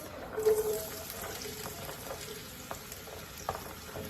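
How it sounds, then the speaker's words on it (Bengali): Oil sizzles and crackles in a wok as chopped onions are added, with a steady frying hiss and small pops throughout. "কড়াইতে তেল দিয়ে দিলাম, তারপরে কেটে রাখা পেঁয়াজ"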